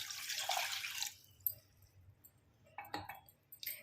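A full glass of water is poured into a pot with cut leaves and peppercorns for herbal tea, a brief splashing pour at the start followed by quiet drips and a few small clinks.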